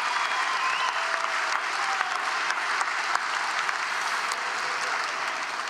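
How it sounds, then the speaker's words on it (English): A large crowd at a high school graduation ceremony applauds steadily and loudly, dense clapping sustained throughout without fading. "please, one more round of applause for all of our student speakers this afternoon."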